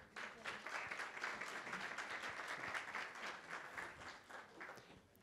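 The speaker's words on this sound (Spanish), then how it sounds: "les pido le pueden dar un fuerte aplauso" Sustained audience applause at a social security forum in Mexico, dense and steady for the whole stretch, fading slightly near the end.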